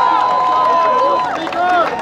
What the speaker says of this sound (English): Give Tamika another round of applause